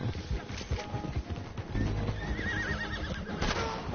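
A horse in the Red Dead Online video game whinnies loudly over clip-clopping hooves, with a second neigh rising near the end.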